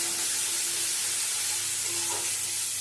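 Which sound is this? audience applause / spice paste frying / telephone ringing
spice paste frying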